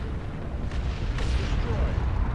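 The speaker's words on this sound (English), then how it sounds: "That's a proper barrage." An artillery barrage in a video game lands as a rolling series of deep, rumbling explosions and sharp bursts, continuous and fairly loud, with a voice speaking over the blasts.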